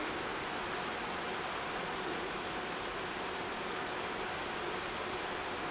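A Porter governor lab apparatus runs at increased speed, about 160 RPM, producing a steady dense mechanical whir and rumble with no breaks and no talking.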